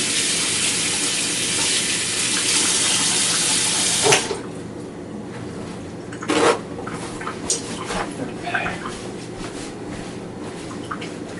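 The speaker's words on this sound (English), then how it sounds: "Wash my hands once again." Hands washed under a running tap at a kitchen sink during baking: loud, steady water flow for about four seconds, then the tap shuts off, followed by quieter splashes and handling sounds.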